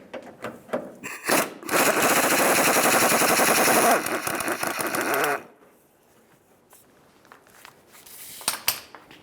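An impact tool fitted with a 15mm socket rattles off a corroded forward body mount bolt on a 2003-2011 Mercury Grand Marquis, one loud close hammering burst of about four seconds, followed by quieter clicks and handling.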